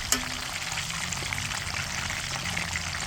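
Duck liver frying in a pan, a steady close sizzle and crackle with a brief sharp tap at the start, no voices.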